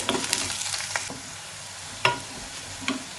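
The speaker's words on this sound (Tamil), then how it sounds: "குறைஞ்ச தீயில் வச்சுட்டாங்க இதை வதக்கணும்" Garlic fries slowly over a low flame for poondu thuvaiyal, a soft steady sizzle with a few sharp clicks from stirring in the pan, close and moderately quiet.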